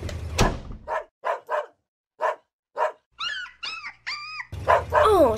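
A cartoon dog barks loudly in a run of short, sharp barks with gaps between them, followed by higher whining yips and a growly flurry at the end, close and alone without speech.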